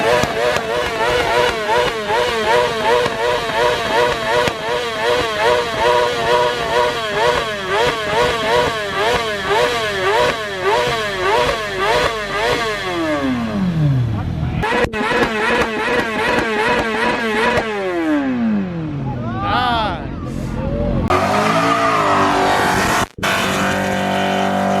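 Street racers do burnouts and donuts in an IKEA parking lot, with loud engines revving up and down repeatedly in a steady rhythm, tire squeals and passing sweeps, and voices shouting over the noise.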